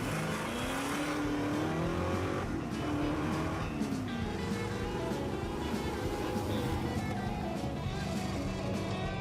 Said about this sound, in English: And this is the 1973 Baldwin Motion Camaro.